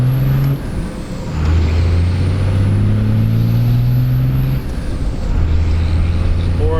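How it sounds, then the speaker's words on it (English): A Cummins diesel truck pulls hard from a roll through second to fourth gear, its engine droning steadily close by with brief shifts in pitch between gears, no talk over it. "we'll do a second to fourth gear pull right here"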